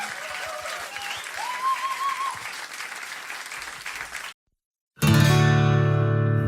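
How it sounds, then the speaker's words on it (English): A concert audience at a live country music show claps and cheers for the band, loud and sustained, then cuts off briefly before music resumes. "Applaudiert bitte auch für die Band, die sind der Wahnsinn."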